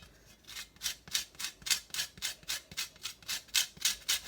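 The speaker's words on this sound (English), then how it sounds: "I haven't got a zester, so I'm just using a fine cheese grater." A lemon is zested on a fine cheese grater, giving quick, even rasping strokes in a regular rhythm, close and fairly soft, with no talking.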